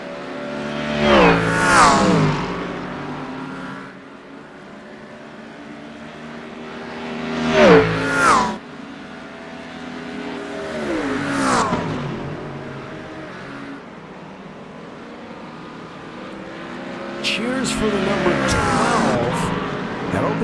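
GT3 race cars in a racing video game at Monza roll down pit road, their engines rising and falling in loud, close revving sweeps as several cars pass one after another.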